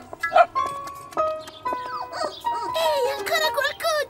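A small dog in an animated children's cartoon barks a few times, mixed with bright cartoon sound effects and music.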